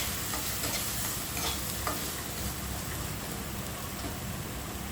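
Potato filling with coriander powder and turmeric sizzles in a pan, a loud, steady close-up fry with a few soft scrapes of stirring.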